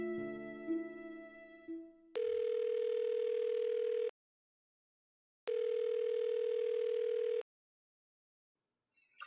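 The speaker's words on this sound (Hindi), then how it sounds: "मैं यहाँ बाहर खड़ा फोन मिला रहा हूँ।" Ringback tone on an outgoing phone call placed by a man standing outside, two long steady electronic tone bursts about two seconds each separated by silence, following brief indistinct background sound at the start.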